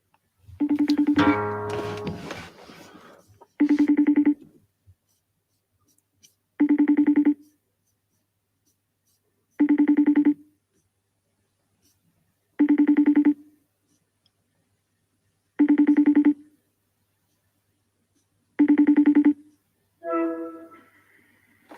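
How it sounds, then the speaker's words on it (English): A FaceTime call ringing: a repeated electronic ringtone in regular bursts of about one second, spaced a few seconds apart, clear and close, preceded by a short scuffle of handling noise and ending with a brief connection chime. "how do I phone on FaceTime?"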